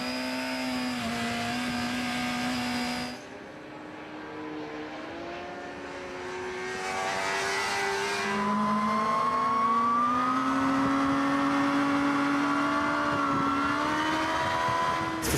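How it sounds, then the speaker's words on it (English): A Suzuki GSX-R 600, a high-revving 125-horsepower Japanese sport motorcycle, climbs through the revs with a sustained, rising engine whine that dips briefly, then builds louder and holds near the end. "This motorbike is high revving and light to drive."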